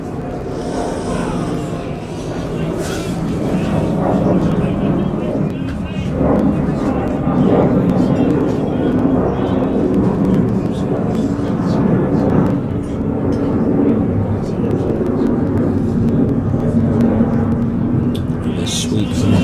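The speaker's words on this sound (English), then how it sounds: "Another airplane goes ahead, presumably heading in or out of Liverpool Airport" An airplane passes overhead near Liverpool Airport during a cricket match, a sustained broad roar swelling and lingering for many seconds beneath a commentator's ongoing talk.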